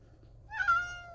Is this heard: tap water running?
no